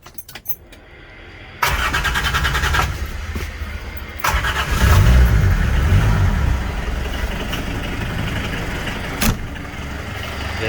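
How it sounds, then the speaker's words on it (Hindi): A 1993 Fiat Padmini fitted with a swapped Toyota D-turbo diesel engine cranks and fires after a few clicks, then settles into a loud, steady diesel idle close to the microphone. "अब आपको ये गाड़ी स्टार्ट करके दिखा देते हैं, ये गाड़ी स्टार्ट कैसे होती है और इसकी स्पीड क्या है और वाइब्रेशंस क्या हैं।"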